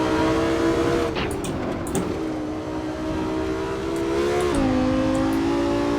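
Audi R8 V10 Plus engine in the racing game Assetto Corsa on the Nordschleife, a steady droning note that holds low, dips briefly, then climbs again in pitch, continuous and fairly loud throughout.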